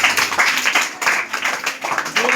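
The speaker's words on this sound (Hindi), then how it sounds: "चलिए ताली बजाइए।" Children clap their hands together in a classroom during a Hindi alphabet lesson, a quick, uneven run of claps that is close and fairly loud, with a voice faintly underneath.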